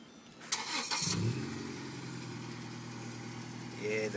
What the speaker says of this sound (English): Integra could actually self-start.